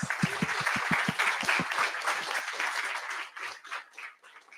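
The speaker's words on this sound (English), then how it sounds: "So big round of applause for Surya, please." Applause at a tech meetup starts with a few distinct close claps, swells into a brief burst from a small audience, then thins out and fades to near silence.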